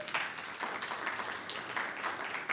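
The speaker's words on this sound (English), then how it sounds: "That deserves a round of applause." A crowd in an evening audience claps steadily, a continuous wash of many hands heard at moderate distance with no talking over it.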